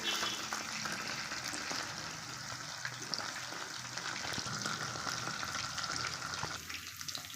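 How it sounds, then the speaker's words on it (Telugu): Chicken pakoda deep-frying in hot oil gives a dense, steady bubbling sizzle with occasional crackles, close and continuous with no talking. "అలా చక్కగా ఫ్రై చేసేసుకుందాము ఇంకా కొంచెం మంచి కలర్ రావాలి ఇంకొంచెం ఫ్రై అవ్వాలి"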